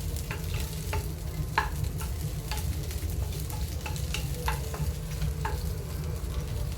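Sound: okra frying and being stirred in pan

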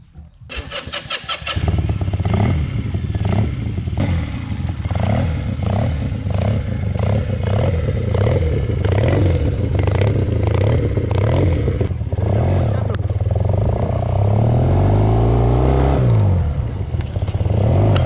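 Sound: modified Honda CM125T motorcycle riding

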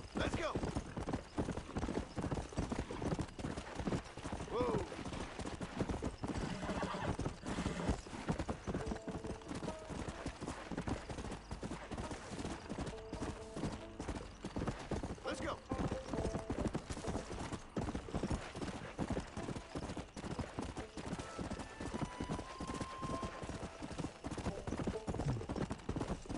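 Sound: horse galloping and neighing in a video game

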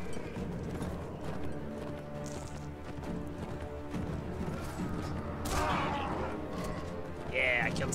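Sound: horse hooves galloping in a video game battle

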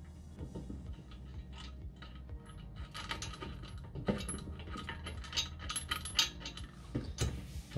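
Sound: screwing a bolt into a weight bench leg

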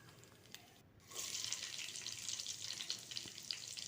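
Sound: chopped onions deep frying in oil in a pan

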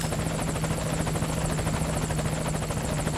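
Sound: helicopter arriving, from a video game

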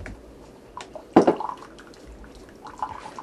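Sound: water poured into a coffee maker

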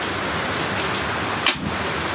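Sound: heavy rain falling outside

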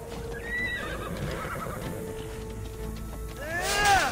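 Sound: horse neighing in video game Immortals Fenyx Rising

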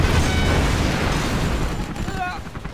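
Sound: rocket bomb explosion in Command & Conquer Generals video game

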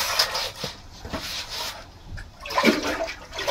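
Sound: washing a pickling jar with water at a well

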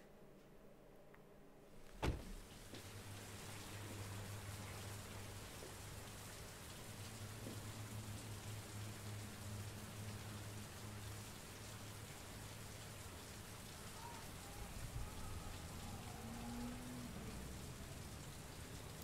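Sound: rain falling in a video game

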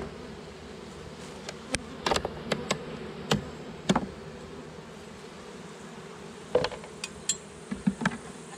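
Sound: honeybees buzzing in an open hive

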